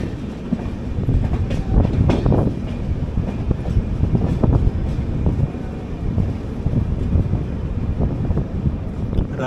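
The 16217 Mysuru-Shirdi Express pulls away from a station after a brief halt, a steady low rumble and clatter of rail cars rolling throughout with wind buffeting the microphone.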